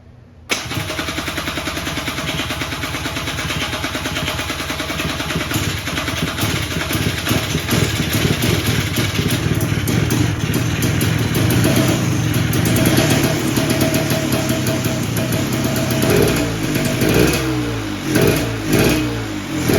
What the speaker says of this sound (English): I'm gonna try that again, but I want to give it some revs this time